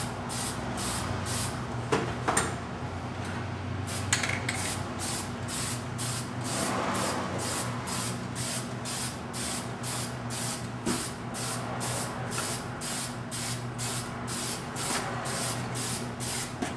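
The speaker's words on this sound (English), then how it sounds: "Get a little overspray down the column there a little bit." Spray paint hisses in quick, regular bursts onto a 1973 Chevrolet Nova steering column, a rapid string of short, close sprays with a few brief pauses and no talking.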